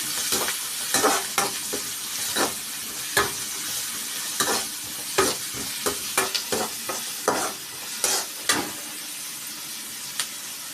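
Onion fries in oil with mustard seeds for a dried-fish curry, a continuous close sizzle punctuated by frequent stirring scrapes and spatula knocks against the pan, with no one talking.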